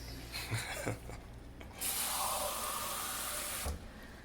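Water is poured into the bottom of a crock pot of pork ropa vieja. After a few soft handling knocks comes a steady, close rush of liquid lasting about two seconds, then it stops.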